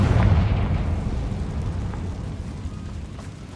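A Confringo blasting spell detonates in the Hogwarts Legacy video game, a deep rumbling explosion that starts strong and tails off into a long low roar.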